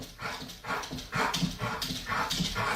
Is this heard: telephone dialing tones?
no